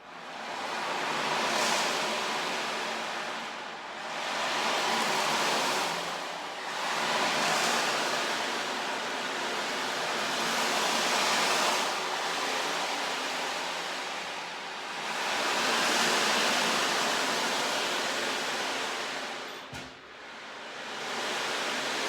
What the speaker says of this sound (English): I start sometimes with my ocean drum, which is this drum here